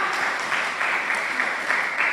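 Audience applause at an evening parenting seminar held in a church setting, a continuous, fairly loud crackle of many people clapping together, sustained evenly without pauses.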